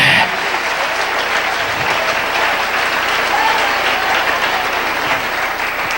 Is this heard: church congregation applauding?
yes